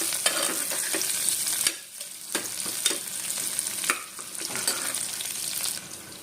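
Onions, curry leaves and a slit green chilli sauté in a pan, a constant crackling sizzle broken by regular spatula scrapes and taps, close and with no talking.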